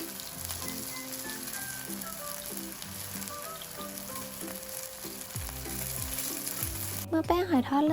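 Steady, dense sizzle of mussel pancake batter frying in hot oil in a pan over medium heat, loud and continuous throughout, with occasional soft clatter near the end.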